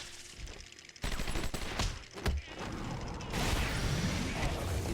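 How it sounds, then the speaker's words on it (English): Gunfire in the video game Batman: Arkham Asylum erupts in sharp, loud bursts, followed by a dense, continuous rattle of shots and noisy clatter with no voices. "How that guy over there did not hear those gunshots"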